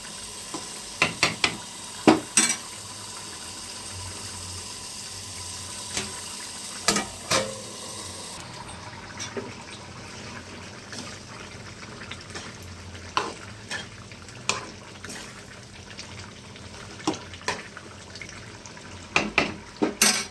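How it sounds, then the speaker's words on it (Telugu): Telangana-style chicken curry simmering in a pan with a steady low bubbling hiss, broken by scattered sharp scrapes and knocks of a spoon stirring against the metal, fairly quiet with no talk. "చికెన్ అయితే ఉడికింది ఫ్రెండ్స్, ఇంకా కొంచెం సేపు ఉడకాలి"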